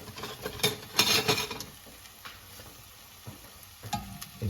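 Crunchy chicken taco frying in a pan, a soft continuous sizzle with occasional scraping and shuffling from a utensil, close and moderately quiet.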